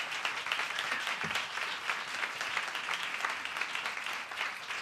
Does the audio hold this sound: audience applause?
yes